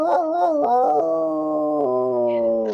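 A puppy dog howls in a long, wavering, tonal cry that rises and dips before settling into a steady drawn-out note, loud and close.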